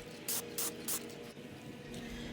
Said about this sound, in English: I cover the pan in about 2 to 3 coats of the red spray paint.